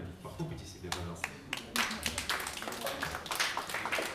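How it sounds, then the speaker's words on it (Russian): Audience at a jazz trio concert applauding, a dense burst of clapping building after a moment and continuing steadily, with some voices mixed in. "Похлопайте себе, пожалуйста."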